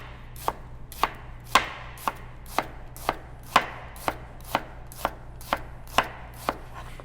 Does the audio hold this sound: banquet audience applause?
no